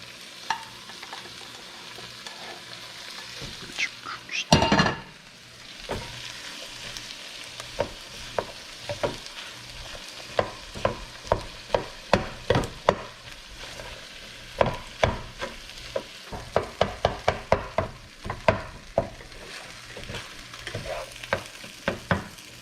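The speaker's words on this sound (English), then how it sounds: "So we have some leftover rice, and let's mix all of this rice in there." Leftover rice stir-fried with Chinese sausage and bacon in a pan, a low sizzle under repeated sharp scrapes and clanks of a spatula, the strokes coming in irregular clusters and growing busier toward the end.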